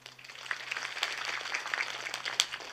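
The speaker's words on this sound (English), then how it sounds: "So applause for yourself." A hall of MBBS freshers claps at their orientation programme, a sustained patter of many hands that swells slightly and stays moderately loud and somewhat distant.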